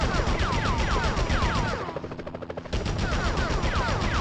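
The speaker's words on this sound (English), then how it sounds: "Enough with the shooting already." Gunfire in the PS1 Spider-Man video game rattles in loud, rapid automatic bursts over game sound, dipping briefly midway before the shooting resumes.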